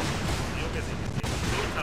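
Warship guns boom and crackle in a World of Warships duel between the North Carolina and the Bismarck, with secondary batteries firing: a dense, continuous barrage with a sharp crack near the middle, under someone talking in Spanish.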